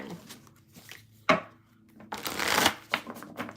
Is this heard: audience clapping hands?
no